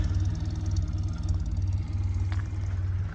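A 1968 Mini Traveller MK2 1000 automatic engine idles steadily with an even, burbling low throb, close by and constant, no voices.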